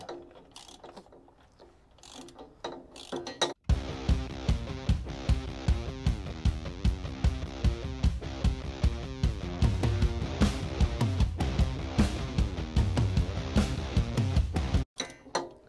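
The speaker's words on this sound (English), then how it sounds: "we can get our 14mm ratchet on this side" A 14mm hand ratchet snugging a bolt while fitting a Clayton 3.5-inch Overland Plus lift kit, its pawl clicking in quick, steady bursts of strokes, close and loud, for most of the span after a quieter start.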